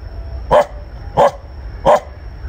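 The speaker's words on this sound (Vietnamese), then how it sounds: "thấy con chó chạy ra không à" A dog near an old well in rural Vietnam gives three sharp, loud barks at evenly spaced intervals over a faint outdoor background.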